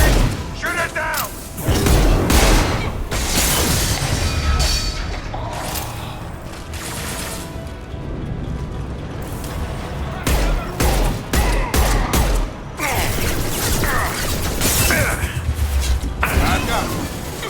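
Repeated gunfire and explosive bursts from Mass Effect 2: Legendary Edition, loud and nearly continuous with mechanical clanks, while voices shout over the combat.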